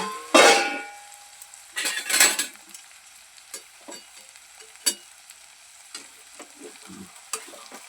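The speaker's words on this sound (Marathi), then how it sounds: "इकडे कांदा परतत आहे" Onion sautéing in a pan for an eggplant bharit, with loud bursts of sizzle as it is stirred, then quieter frying punctuated by spatula clinks and scrapes against the pan.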